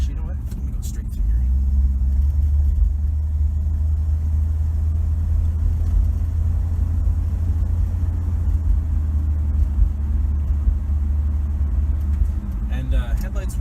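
A 1967 Plymouth Valiant with a slant six engine drives around town, its low, steady engine rumble and road noise filling the cabin continuously, with a voice speaking over it at times.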